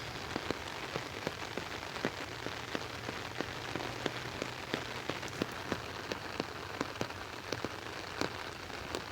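Steady rain pattering on an umbrella in the morning, a dense close hiss dotted with sharp individual drop taps throughout, heard alone without talk.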